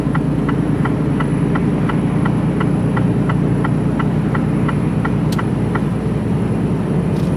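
A Mercedes-Benz Actros HGV truck drives on a UK road, heard from inside the cab as a loud, steady low engine drone with a faint repeating tick over it and no voices.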